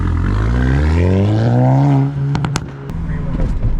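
A straight-piped VW GTI exhaust drones loudly up through the revs for about two seconds, then drops off into lower burbling and sharp crackles, close by.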